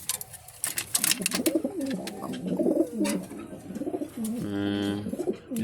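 Racing pigeons at a breeding loft cooing in soft, repeated low burbles, fairly close, with a few sharper bird chirps and rustling at the start.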